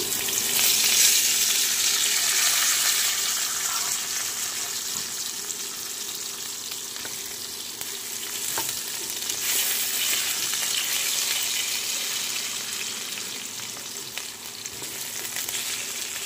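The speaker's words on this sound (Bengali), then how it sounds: "ঢাকা খুলে আলুগুলো একবার নাড়িয়ে নেব" Potatoes fry in a pan for katla fish kalia, a steady loud sizzle running throughout with occasional scraping stirs, no voices.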